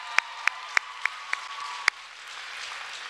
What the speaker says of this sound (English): Let's give another round of applause for this incredible cheerleading team